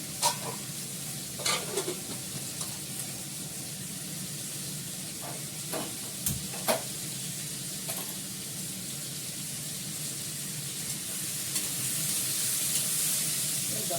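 Potatoes frying in a hot pan with a steady broad sizzle, broken now and then by sharp stirring scrapes and clicks. No voices are heard over the frying.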